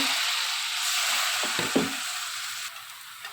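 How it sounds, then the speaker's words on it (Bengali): Onions browning in a pan for a small-fish bhuna give a soft, constant sizzle, broken midway by a few quick clinks and scrapes of stirring. "পেঁয়াজটা একটু লাল লাল হয়ে আসছে আর একটু ভাজা হোক"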